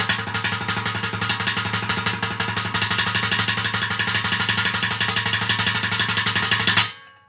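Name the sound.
crash-cymbal-like sound played on a bucket drum set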